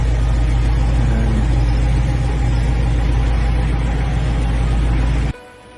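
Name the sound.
small Toyota engine of a jeepney running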